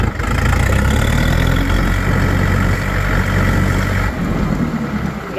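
A DTZ 50-horsepower tractor engine idles loudly and steadily nearby, a low rumbling chug that holds constant throughout.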